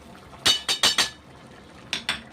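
A metal pot lid clinks several times in quick sharp taps, then twice more after a pause, as a pot of fish head and bottle gourd curry is covered on the stove, close and otherwise quiet.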